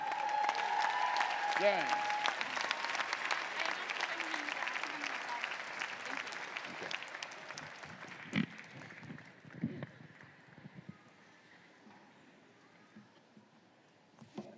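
A large commencement audience at a 2017 graduate school ceremony claps warmly for a student speaker, the sustained applause loud at first then thinning out, with a brief voice and scattered cheers.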